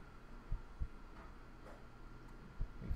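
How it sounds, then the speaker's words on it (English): Heartbeat in the horror video game One Late Night, soft low thumps arriving in doubled pairs, one pair early and another near the end, over a quiet hum with no talking. "Heart beating faster again."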